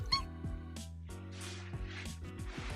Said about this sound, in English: my cat needed some playtime